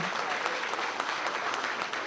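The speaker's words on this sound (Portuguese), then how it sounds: "Salva de palmas para o Apolinário aí também" Crowd at a Requião campaign rally in Toledo applauding a former city councillor: continuous, even clapping from many people, moderately distant and steady for the whole stretch.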